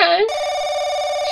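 A telephone rings in the horror game Paranoiac, a steady electronic ring that starts after a brief voice at the very beginning and continues unbroken and loud.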